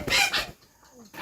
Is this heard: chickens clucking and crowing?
yes